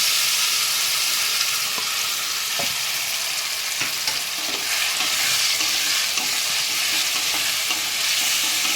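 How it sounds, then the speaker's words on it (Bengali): A ginger, garlic, tomato and green and ripe chili paste hits hot oil with already fried vegetables for a fish bone curry, giving a loud, steady sizzle with a few soft stirring clicks and no voices. "আদা রসুন আর টমেটো কাঁচা পাকা লঙ্কা পেস্ট করে নিয়েছি, এবার একটু দিয়ে দিচ্ছি।"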